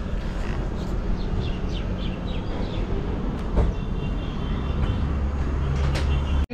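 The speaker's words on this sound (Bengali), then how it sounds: "আজকেও কিন্তু সেই কাঞ্চনকন্যা এক্সপ্রেস এই মুহূর্তে যাচ্ছে" The Kanchankanya Express passes in a steady, rumbling rush of wheels on rails, with a few faint bird chirps above it and an abrupt cut at the end.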